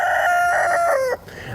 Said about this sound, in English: the Australorps and the roosters crowing